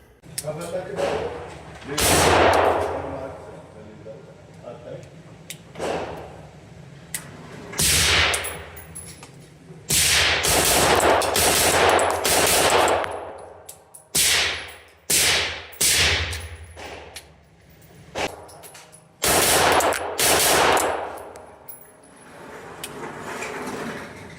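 An Oracle Arms 2311 pistol fires at an indoor range in loud, sharp reports, alone and in quick strings, with echoing clangs and talk between bursts.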